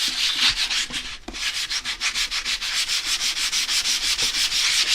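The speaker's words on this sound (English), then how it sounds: "Just a really light sand just to make sure we don't have any sharp edges and to get it really clean." An aluminum part for a resin printer is lightly sanded with grit over a cookie sheet, a rapid run of rhythmic back-and-forth rasping strokes, close and steady, with no talk.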